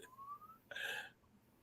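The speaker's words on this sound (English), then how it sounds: "Why it sound like a slide whistle?" A faint, thin whistling tone slides steadily upward in pitch like a slide whistle, followed by a brief breathy rush of noise, heard alone and quiet.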